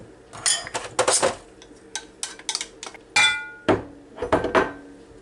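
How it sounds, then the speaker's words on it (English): Cornbread and herb-seasoned stuffing get mixed in a bowl, a run of sharp clinks and scraping knocks from a utensil against the dish in irregular bursts, close and fairly loud with no talking. "Mix everything together."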